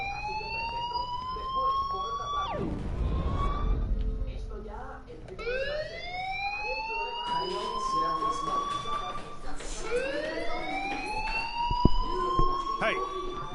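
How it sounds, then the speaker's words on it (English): A fire alarm in the video game Life is Strange wails in loud, repeated rising sweeps that restart several times over a steady background, with faint voices underneath. "do you hear that fire alarm?"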